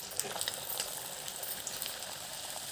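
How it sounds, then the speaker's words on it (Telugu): Puris fry in hot oil with a faint, steady, hissing sizzle and light bubbling, heard alone and at low volume. "మనం పూరిని ఇలా వేడి నూనెలో కాల్చుకోవాలి"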